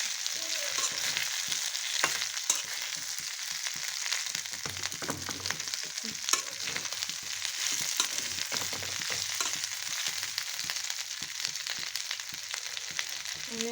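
Elephant apple pickle frying in mustard oil, with a steady close crackling sizzle and occasional stirring scrapes running throughout, no talking.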